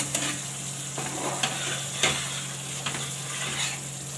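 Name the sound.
semolina mixture roasting in pan on low flame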